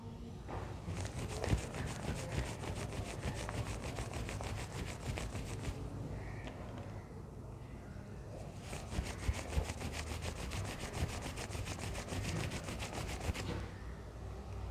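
An object rubbed back and forth on cloth for a static electricity demonstration, giving a steady, close scratchy friction sound that runs almost continuously with a brief lull in the middle.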